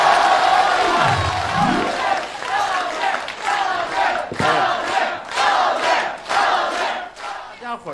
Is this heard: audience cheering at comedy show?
yes